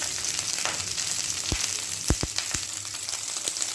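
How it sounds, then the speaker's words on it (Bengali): Food frying in a pan on its second side gives a steady, close sizzle with a few soft clicks and bumps, and no talking. "এক পিঠটা ভাজা হয়ে গেছে, আর একটা পিঠ ভাজতে হবে।"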